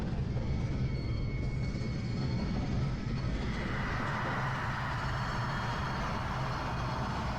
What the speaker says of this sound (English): when train is arriving, it's like that kind of windy thing, that sound